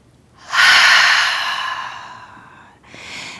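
A long, breathy exhale through an open mouth swells quickly, slowly fades over about two seconds, then a shorter second breath follows, close and alone.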